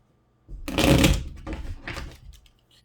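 Tarot cards riffled and shuffled close up, a loud burst followed by two softer, shorter bursts of papery flicking.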